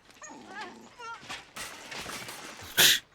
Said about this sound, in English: Oh, it's a dog. It sounded like a fucking creature.